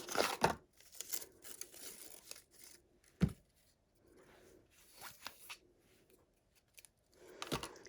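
A glue dot is peeled from its backing while a handmade card is assembled, a faint close crinkling and tearing with a few soft snaps and longer quiet gaps.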